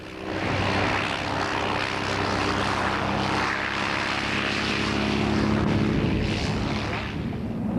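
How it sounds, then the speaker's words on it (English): A propeller tow plane's engine drones steadily and loudly throughout while pulling a glider into the air, with a low throbbing hum and some wind rush, close and unbroken. "A power plane hooks onto the glider and pulls it into the air"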